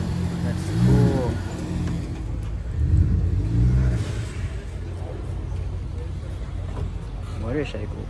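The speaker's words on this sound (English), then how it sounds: "Motorcycle." At a car meet, a motorcycle engine revs in a few rising bursts close by, mixed with crowd chatter and people talking nearby.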